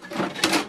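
The ink cartridge carriage of an HP Deskjet 2723 printer slides into place with a short mechanical whir and two quick clunks, heard close up.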